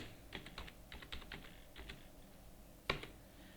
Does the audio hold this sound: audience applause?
no